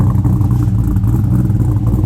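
A cold car engine on a dyno runs at a steady, loud high idle, a close, continuous low rumble with a slight clattering pulse and no clear revving or voices.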